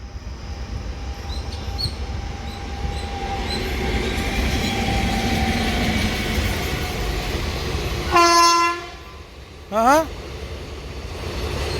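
A train on the Guntur-Vijayawada branch line rolls past with a steady rumble and squealing wheels, then sounds two short, loud horn blasts near the end, the second briefer than the first.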